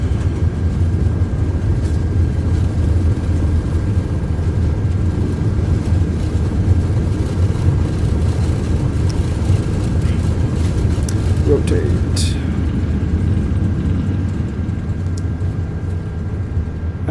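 Airbus A330-300 jet engines roaring steadily during a takeoff roll in Microsoft Flight Simulator 2024, a dense, constant rumble throughout with voices speaking over it.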